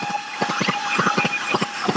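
A train runs along the Gaya railway line beside elevated road construction in Mithapur, its wheels beating a fast, regular clickety-clack over rail joints, loud and close, with a faint high tone above.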